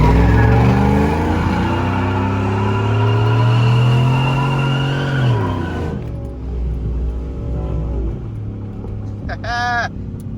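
A GMC truck on factory 20-inch wheels accelerates in third gear. A loud engine drone swells and rises, then eases off, leaving a lower rumble with a brief high squeal near the end.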